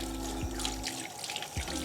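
Eggs being rinsed under a running kitchen tap: a loud, steady rush of water splashing into a sink, close up, with a brief shift as the eggs move through the stream.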